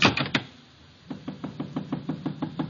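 Knocking at a door in an old radio mystery drama: a few sharp raps, a short pause, then a quicker run of about a dozen steady knocks, close and fairly loud, with no voices.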